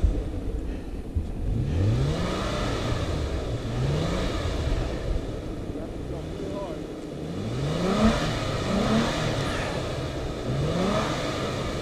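A Toyota FJ Cruiser on the Medano Pass trail in Colorado revs its engine while the back left tire spins without traction, a rising and falling mid-pitched drone with repeated surges, heard close under people talking.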